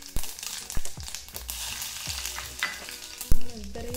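Whole spices go into hot oil and sizzle steadily up close, with a spoon scraping and stirring the pan in irregular clacks and one sharper knock near the end.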